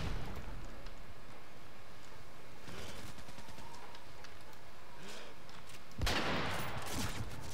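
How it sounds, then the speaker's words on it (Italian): Gunfire in the video game Modern Warfare 3, with scattered shots and bursts across the clip and a louder, denser burst near the end over a steady game background. "Vedo qualcuno sparare da qui."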